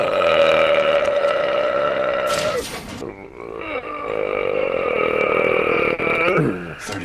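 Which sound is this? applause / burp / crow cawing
burp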